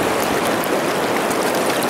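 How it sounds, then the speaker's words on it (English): A kayaking rapid on the Snake River at Lower Mesa Falls in Idaho roars as steady, dense rushing whitewater, loud and close throughout with no talking. "I'll take a video of Scott going down this rapid here."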